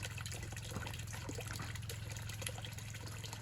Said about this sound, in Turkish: Lıkır lıkır tertemiz suyu içiyorlar.